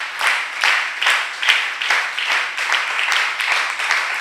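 A church congregation claps in a rhythmic, even beat, around two claps per second, loud and close, with no voices over it.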